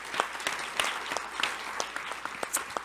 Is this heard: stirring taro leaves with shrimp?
no